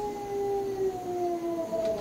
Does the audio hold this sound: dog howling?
yes